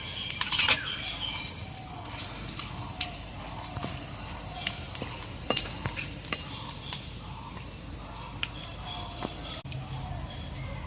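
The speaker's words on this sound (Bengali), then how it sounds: "এখন আমার লঙ্কাটা ভাজা হয়ে গেছে।" Dried chilli frying in hot oil with a bay leaf and black cumin, a steady close sizzle with scraping stirs and small crackles throughout, no talking.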